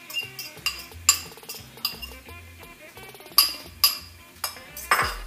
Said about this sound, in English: Now we're gonna put the vegetables in.